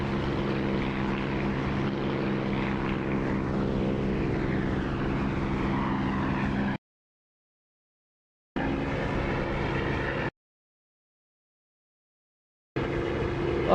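Propeller aircraft engine drones steadily in the cockpit with the canopy open in a flight-sim game, a loud continuous roar cut by two short silent gaps.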